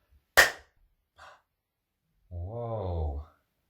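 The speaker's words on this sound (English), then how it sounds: "We'll do a nice big clap and see where we end up" A single big hand clap rings out sharply and close, followed by a faint shuffle and then a brief voiced exclamation.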